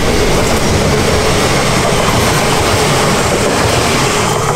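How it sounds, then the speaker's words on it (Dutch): A train runs through an old disused Belgian royal railway station without stopping, a loud, steady rumble of rolling wagons with faint clickety-clack that fills the whole stretch, no voices over it. "Oh, daar komt de trein."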